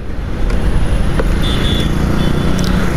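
A 2025 Suzuki Access 125 scooter idles with a steady, low, even engine hum held at constant loudness, with faint high whines and clicks above it and no talking.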